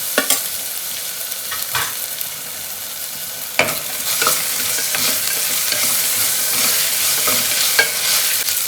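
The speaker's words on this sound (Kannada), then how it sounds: "ಶುಂಠಿ ಬೆಳ್ಳುಳ್ಳಿ ಹಸಿ ವಾಸನೆ ಹೋಗೋವರೆಗೂ ಫ್ರೈ ಮಾಡ್ಕೊಳ್ಬೇಕು." Ginger garlic paste frying with onion and green chillies in a pan for chicken curry, a steady close sizzle with several sharp spoon scrapes and stirring knocks, no talking.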